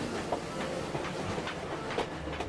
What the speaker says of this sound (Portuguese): Os trens precisam cruzar o país de norte a sul?